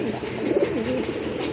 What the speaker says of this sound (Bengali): এখানে কিন্তু আরেক জোড়া কবুতর আছে, জাক কবুতর